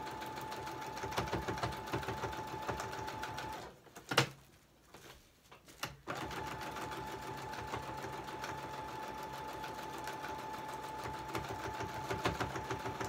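Sewing machine stitching lace onto a shabby journal cover, a steady, fairly quiet rhythmic chatter that halts briefly with a couple of clicks and knocks before starting up again.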